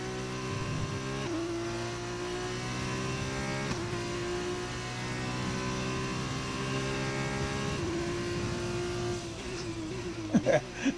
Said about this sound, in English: Maths while driving a Formula 1 car